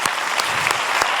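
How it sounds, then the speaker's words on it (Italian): Studio audience applause on an Italian television show, a loud, dense burst of clapping that fills the short moment on its own. "Prenditi l'applauso del nostro pubblico qui"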